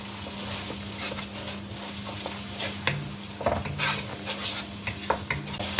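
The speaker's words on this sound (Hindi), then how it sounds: "अब मसाले को इसमें भूनें।" Ground red chilli, turmeric, coriander and cumin powders fry in oil in a pan for palak gosht, under a steady sizzle with repeated spatula scrapes and stirs. A low hum runs underneath, and no one talks.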